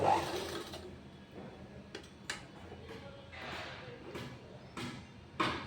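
Domestic sewing machine stitching piping onto a blouse back neck, short bursts of whirring stitches separated by pauses, close and moderately loud, with light clicks between runs.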